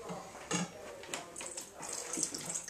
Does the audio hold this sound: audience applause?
no